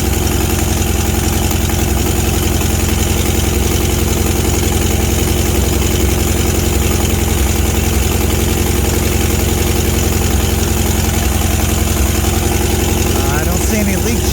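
A 1974 VW Baja engine running on fresh gas idles steadily and loudly close by, a continuous low rumble that holds without change for the whole stretch.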